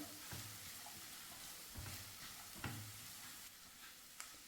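Crushed ginger and garlic sautéing in a pan over low to medium flame for mini samosa filling, a steady soft sizzle broken by a few scraping stirs of the spoon, close and moderately quiet.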